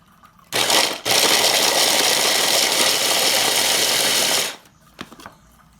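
A food processor grinding walnuts and garlic runs as one loud, steady, close whir of about four seconds, with a brief stutter just after starting and quiet on either side.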